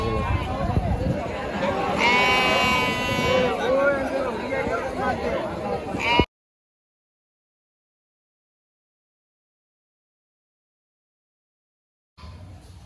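Lambs bleat repeatedly amid crowd chatter and general market bustle at a sheep market, then the sound cuts out to silence before a brief return of noise.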